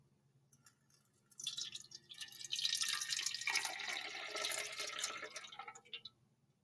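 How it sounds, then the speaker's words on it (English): In a school lab, water pours into an empty metal can for several seconds, a bright splashing rush that starts abruptly and tapers off, following a few faint drips. "Let's add some water to that."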